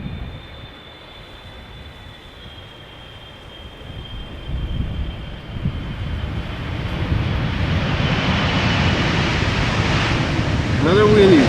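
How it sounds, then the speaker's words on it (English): A KLM Boeing 777-300 airliner, nine years old, arriving at Amsterdam Schiphol from Cape Town, its broad jet roar building slowly from distant to loud and close over about ten seconds, with faint talk underneath. "Next up, another 777-300 KLM flight 598, arriving from Cape Town"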